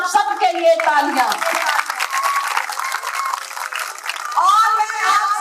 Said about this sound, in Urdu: بھرپور آپ سب کے لیے تالیاں.